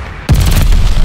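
A glide bomb explodes in Call of Duty Vanguard, one sudden, very loud, close boom with a heavy low rumble that holds steady after the blast.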